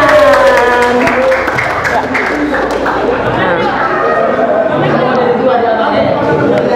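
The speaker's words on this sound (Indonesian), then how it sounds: "masya Allah, tepuk tangan" Audience applause at an Islamic boarding school talk on clean and healthy living, a steady wash of clapping mixed with crowd chatter and voices speaking over it throughout.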